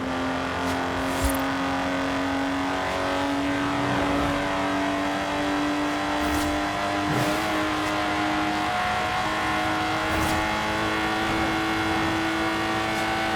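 Lotus Exige engine driving in Forza Horizon 4, a steady sustained drone with a strong low tone and slight revving swells, continuous and fairly close throughout.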